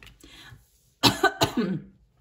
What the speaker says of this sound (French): vous voyez, je tousse